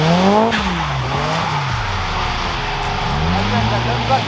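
BMW cars drift at speed on a race circuit, engines roaring and rising and falling in pitch as they sweep past close by, with tire noise and a voice talking over them.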